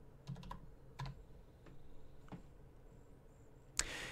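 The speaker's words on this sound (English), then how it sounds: "Type in your password." Keys on a computer keyboard tapped to enter a password, a few sparse clicks spread over a few seconds in a quiet room, ending with a sharper key press.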